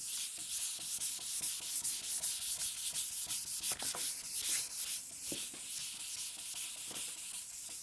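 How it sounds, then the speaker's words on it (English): A power sander works over a wood finish, giving a steady, hissing, gritty rub with faint scratchy variations and occasional clicks, close and continuous without any talk. "you all know how to sand"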